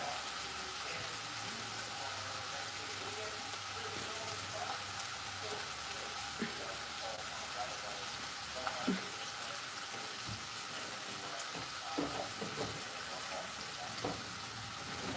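Sausage frying in a pan alongside bacon for a cornbread stuffing, a steady close sizzle with scattered pops and clicks of utensils, running throughout at moderate level.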